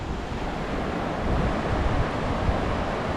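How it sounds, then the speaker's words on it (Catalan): The Zambezi river rushes past, a loud steady broadband wash of flowing water mixed with wind buffeting the microphone, without voices. "Això és el riu, que quan està alt, evidentment, això no es pot passar de cap manera"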